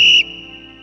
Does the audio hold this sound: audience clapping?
no